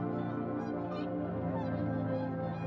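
Whooper swans give loud, nasal, honking calls in a close, overlapping chorus that continues without a break, with no one speaking.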